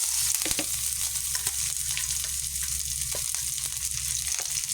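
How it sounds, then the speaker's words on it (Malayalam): Mustard seeds and green chillies crackle in hot oil in a continuous close sizzle with occasional stirring taps and pops, no voices. "2 പച്ചമുളക് ചേർത്ത് കടുക് താളിക്കും."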